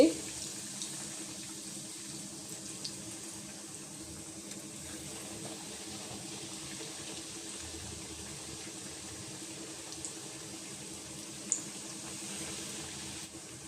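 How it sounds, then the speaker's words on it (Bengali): Vegetarian banana-flower chops, a Bengali snack, frying one by one in hot oil in a small kadai: a faint, steady bubbling sizzle throughout with a few soft clinks, no voices. "এখন তেলটা গরম হয়েছে, এখন একটা একটা করে চপ আমি ভেজে নিচ্ছি।"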